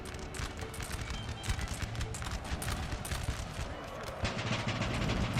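Massed musket volleys crackle across a Napoleonic Total War 3 battlefield, a dense, continuous rattle of scattered shots layered over a steady low battle din with no spoken words.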